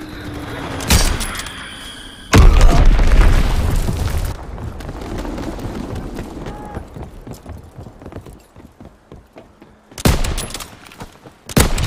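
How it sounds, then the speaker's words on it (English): Enemy bombs explode in Call of Duty: WWII as loud, booming blasts at irregular intervals, with a long rumbling roll after one and quieter crackling battle noise in between. "Enemy bomb incoming!"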